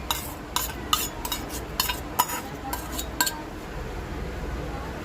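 A spoon stirs ginger garlic paste, red chili sauce and yogurt into raw chicken in a metal bowl, giving soft, faint scraping and a series of sharp clinks against the side.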